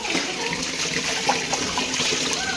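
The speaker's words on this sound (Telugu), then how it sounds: "ఆ జుట్టు అంతా పడింది కదా, అదైతే వాటర్తో కొడుతున్నాను పోతుందని" Water is splashed and poured to rinse away cut hair after a child's haircut, a steady close gush and trickle of running water throughout.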